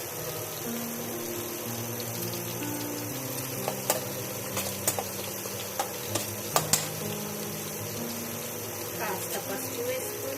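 Onions sizzling in hot oil while a ladle stirs them, a soft continuous fry with scattered scraping clicks against the pan and a faint low background hum.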